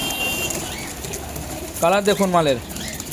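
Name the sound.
pigeons cooing and flapping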